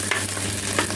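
Food frying in a pan with turmeric, stirred by hand, producing a continuous close sizzle with a couple of soft scraping strokes.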